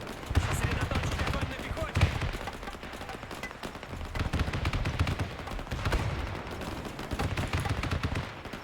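Gunfire in the Men of War 2 Soviet campaign, with rapid machine-gun bursts and rifle shots rattling in repeated volleys throughout, and a voice speaking over the shooting.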